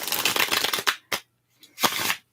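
Tarot card decks shuffled up close, a long dense riffle followed by a few short separate bursts, crisp and fairly loud with brief pauses between them.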